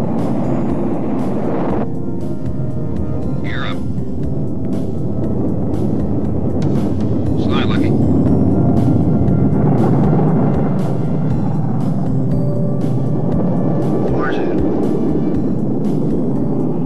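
Republic F-84F swept-wing jets of the 1955 Thunderbirds flying in close formation, heard as a loud, steady, broad roar that holds throughout with no voices.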